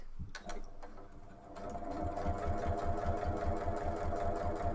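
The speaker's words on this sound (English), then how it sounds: "See how simple it is to sew straight using this presser foot." Sewing machine fitted with a straight-stitch guide presser foot running steadily along a fabric edge, its rapid rhythmic needle thumping close and even after a few initial clicks.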